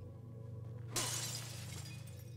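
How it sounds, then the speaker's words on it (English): A bare-handed punch smashes through glass in The Evil Within, one sudden bright shattering burst followed by falling shards tinkling away over a low steady hum. "Punch glass with my bare hands."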